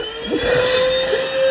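A household vacuum cleaner runs steadily at close range with a sustained whining hum and no speech.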